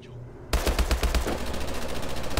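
Rapid automatic gunfire bursts from the video game Call of Duty: Advanced Warfare, on a snow level, erupting suddenly after a brief quiet moment and continuing loud and sustained to the end.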